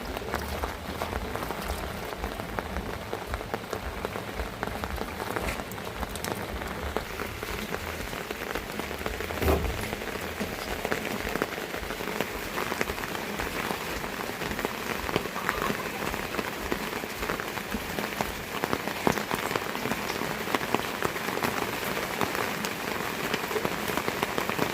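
Steady rain falls in a village, pattering densely on surfaces in an even, continuous wash, close and unbroken throughout with no voices.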